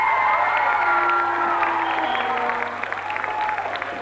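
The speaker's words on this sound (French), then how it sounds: "On applaudit bien fort le professeur." An audience applauds and cheers steadily, a dense wash of clapping with whoops and shouts rising over it, fading slightly toward the end.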